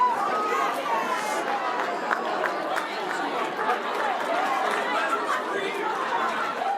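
A crowd of people loudly cheering and calling out together for rock paper scissors players, a dense, steady babble of excited voices with scattered shouts and laughter throughout.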